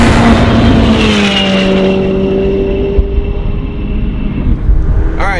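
A Hennessey-tuned McLaren 720S with 809 rear-wheel horsepower roars past loudly, its engine note rising then falling away as it recedes, leaving a quieter tail.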